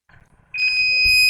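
A rain sensor buzzer alarm triggered by sprayed water, a faint clicking lead-in, then a sudden loud steady high-pitched electronic tone sounding continuously.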